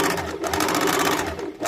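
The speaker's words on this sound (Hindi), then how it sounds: "इसी प्रकार से दूसरे डार्ट का भी सिलाई कर लेंगे।" A sewing machine runs steadily and close up while stitching a dart on a kurti, one brief continuous burst of rapid needle chatter.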